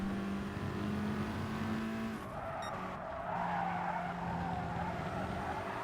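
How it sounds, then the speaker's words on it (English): A race car in the GT Sport racing game holds high revs, a loud, sustained engine drone that drops briefly midway and climbs again, with tire squeal and other cars close by. "Keep the revs up, nice, like that."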